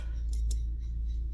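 A knife blade trims excess mirror vinyl film, giving two short crisp cutting scrapes close up over a low steady background hum.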